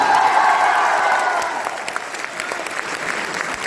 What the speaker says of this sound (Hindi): हाथ ऊपर करके एक बार तालियां बजा दीजिए जोरदार